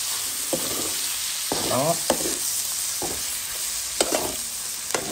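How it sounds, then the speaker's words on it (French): Tomato paste is stirred in a frying pan, a soft continuous sizzle broken by scraping strokes of the spoon at an irregular pace, with one short spoken word near the end. "ces tomates concentrées, je mélange un peu. Je mélange."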